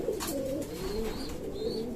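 A young Japan line pigeon coos softly in low, rolling murmurs from close by, with a faint higher chirp now and then and no voices.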